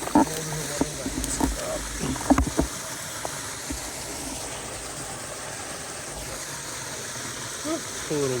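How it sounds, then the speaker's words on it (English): Creek water splashing as someone wades across a stream in the Australian bush, a few sharp close splashes early on, then a softer steady flow of running water. "Cool little water splatter there."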